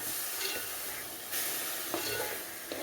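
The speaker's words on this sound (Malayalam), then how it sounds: "അല്പം ഉപ്പും ചേർത്ത് ഇളക്കി കൊടുക്കാം ഇളക്കി കാബേജിൽ എണ്ണയൊക്കെ ഒന്ന് പിടിക്കും പറ്റട്ടെ" Cabbage with salt stirred in hot oil in a pan for a South Indian cabbage thoran, giving a steady broadband sizzle with a few soft scraping stirs, close up and without any voices.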